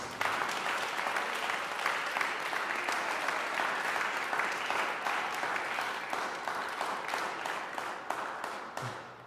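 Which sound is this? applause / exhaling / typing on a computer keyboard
applause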